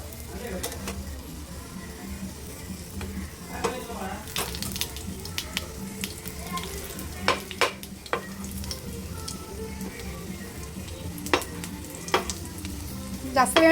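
Uttapam frying in a pan at home, a continuous crackling sizzle with scattered sharp clicks and spatula scrapes, while people talk nearby and water runs briefly.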